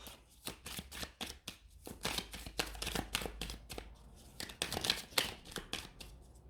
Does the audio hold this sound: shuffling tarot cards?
yes